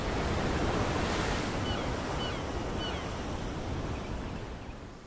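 Stormy ocean waves pound and wash over coastal rocks in a steady, loud roar of surf with wind noise, dense and continuous throughout and slowly easing at the end.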